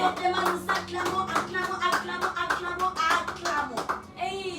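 A church congregation claps rhythmically together during an evening worship service, sharp repeated hand claps mixed with sung or chanted acclamation and voices throughout.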